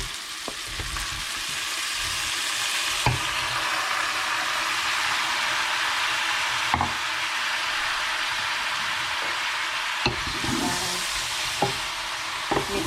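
Sliced sponge gourd (patola) hits a hot pan and fries with a steady, loud sizzle, broken by a few sharp scrapes and clanks of stirring, with no voices.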